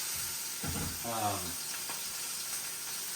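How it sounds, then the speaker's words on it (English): Steak fat renders in a hot pan with a soft, steady sizzle and hiss that runs under a voice talking briefly. "you want to just try to render down as much of this fat as possible"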